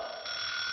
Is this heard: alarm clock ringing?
yes